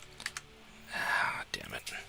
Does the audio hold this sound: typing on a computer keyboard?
yes